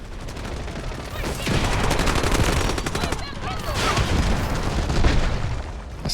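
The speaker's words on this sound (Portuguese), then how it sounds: "Nossa, é muita granada" Rapid gunfire and booming blasts from grenades and rifles in the first-person shooter Delta Force, loud and continuous for several seconds with the intensity swelling in waves. A voice talks over parts of the barrage.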